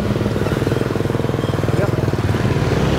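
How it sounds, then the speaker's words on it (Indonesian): A motorcycle engine running close by as it rides off, a loud, rapid, pulsing putter with a steady beat that continues throughout. "Naik motor."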